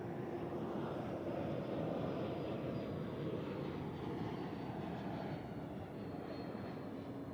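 Airplane landing on runway 14 at Zurich Airport, a steady, distant broadband engine rumble that holds evenly and fades slightly toward the end, with no voices.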